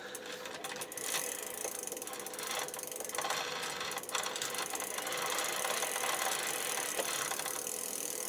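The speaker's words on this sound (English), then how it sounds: "You can probably just hear the motor kick on." Mahle X35 e-bike hub motor on a Ribble SLE kicking on as the chain is turned by hand, a steady mechanical whirring and ratcheting hum under faint background noise, continuous and fairly close throughout.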